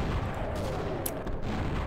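Rapid gunfire in the video game Half-Life Sven Co-op, a dense run of harsh shots and bursts filling the whole moment, moderately loud with no talk.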